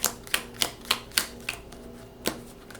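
A deck of cards for the 7 Summits mountaineering board game is shuffled close by, giving about half a dozen crisp, evenly spaced snaps, then a pause and one last snap, with no talking.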